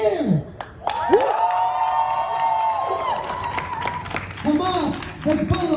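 Protest crowd in Philadelphia cheering and clapping, a sustained roar of mixed voices and shouts with rising, swelling calls, loud and close throughout.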